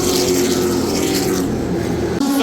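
Race cars circle Irwindale Speedway in a loud, continuous buzzing roar like a swarm of bumblebees, the droning engines holding steady throughout with a brief dip near the end.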